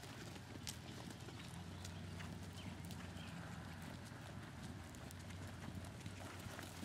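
A dressage horse doing extended trots in an arena, its hooves giving a steady, faint rhythmic clip-clop under a low, broad background rumble, with no talking.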